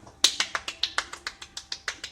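A single person clapping alone in a steady round, about a dozen sharp close claps evenly spaced over two seconds.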